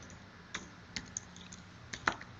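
Sparse keystrokes on a computer keyboard as a short phrase is typed, a handful of quiet, close clicks spaced unevenly over a couple of seconds with faint room noise between them.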